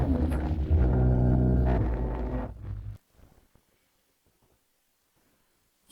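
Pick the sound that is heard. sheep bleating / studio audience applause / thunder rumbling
thunder rumbling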